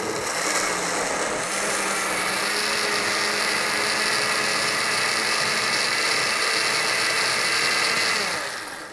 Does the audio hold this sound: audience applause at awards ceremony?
no